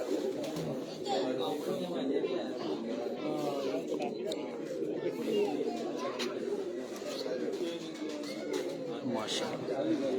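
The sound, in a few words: pigeons cooing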